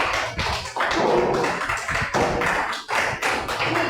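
A church congregation claps steadily and loudly together for several seconds, a dense wash of near, overlapping hand claps with brief dips in intensity.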